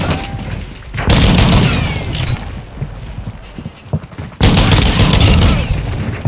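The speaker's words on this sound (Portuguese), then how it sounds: "Jogando granada" Grenade blast in Call of Duty Modern Warfare II multiplayer, a sudden loud boom near the middle and another heavy burst later, amid dense gunfire and battlefield noise.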